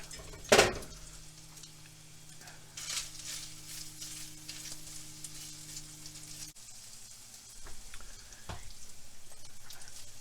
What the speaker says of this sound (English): I'm going to add a little butter to it so I could brown the mushrooms and onions